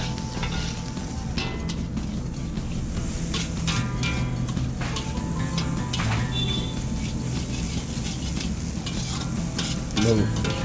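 Street-style chicken fried rice with vinegar, chili sauce and tomato sauce tossed in a wok at a hotel stall, loud sizzling over busy metallic scraping and clanks of the ladle in quick, uneven strokes.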